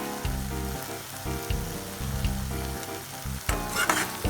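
Food sizzling and frying in a pan on a low flame while seasoned with black pepper, a steady close crackle with repeated stirring scrapes and a brighter burst of sizzle near the end, no talk.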